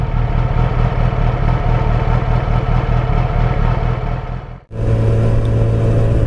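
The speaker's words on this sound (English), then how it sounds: "So as you guys can see, the idling is very unstable." A Yamaha YZF-R6 motorcycle engine idles roughly and unevenly, nearly stalling once before catching again and settling into a steadier, louder idle.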